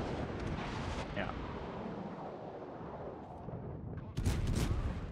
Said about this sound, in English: Somewhere in there is battleship shells.